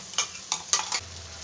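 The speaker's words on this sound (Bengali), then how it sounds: "আরও দু থেকে তিন মিনিট আমি মশলাটাকে ভেজে নেব" Quiet scraping and stirring of spice paste in a pan over a faint sizzle, four short spatula strokes in the first second, then a low steady frying hiss.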